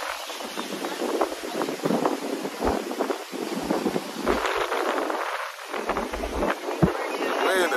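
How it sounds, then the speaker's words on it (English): Strong wind buffets the microphone in loud, gusty low rumbles and roaring bursts on a windy high spot during a Puerto Rico trip, with voices faintly mixed in. "Wind is crazy up here, man."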